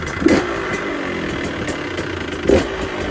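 A new 2020 150SX dirt bike engine idles nearby with a steady, even mid-pitched hum. Two brief louder bumps break the idle and no one speaks.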